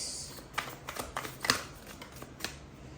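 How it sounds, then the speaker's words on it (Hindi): Tarot cards being shuffled by hand: quiet, irregular bursts of papery riffling and rustling, close by, with no talking over them. "अच्छे से शफल करिए, अच्छे से।"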